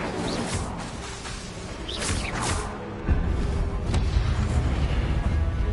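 A fire spell cast in Hogwarts Legacy: a rushing whoosh builds into a roaring burst, then a sustained, loud crackling blaze carries on after about three seconds, with no voices.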